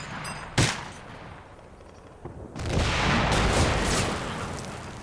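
Gunfire from snipers and troops in the video game Combat Mission: Black Sea, with a sharp early shot and a second crack, then sustained dense firing building into a loud, continuous fusillade.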